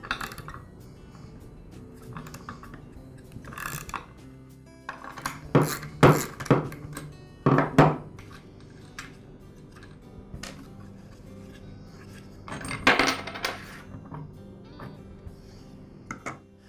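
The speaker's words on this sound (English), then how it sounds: "Now I can remove the nut and the fan." Metal tools clink and rattle while a nut and fan are removed from a Ryobi handheld gas blower under repair. Sharp taps and scrapes come close by in irregular bursts, and there is no talking.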